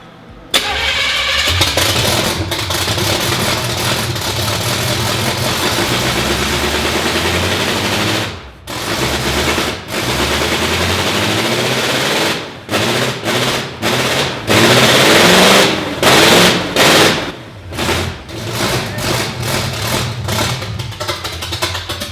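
Homemade car engine cranking over and catching, then running loudly with uneven revving and sharp popping bursts, cutting out several times before restarting.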